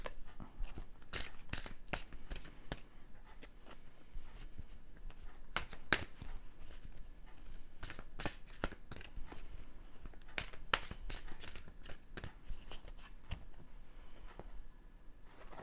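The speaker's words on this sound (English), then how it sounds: "I'm just going to shuffle another card out" Tarot cards are shuffled by hand, a close, quiet stream of crisp riffling snaps and papery rustles repeating irregularly throughout.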